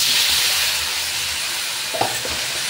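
Shrimp sizzle loudly in a pan of browned garlic and onion sautéed in butter, a bright continuous frying hiss with a brief stirring clink partway through, close and without talk.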